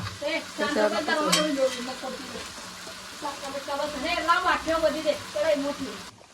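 Potatoes fry in a pan with a steady sizzle and stirring scrapes, while someone talks over the cooking for most of its length.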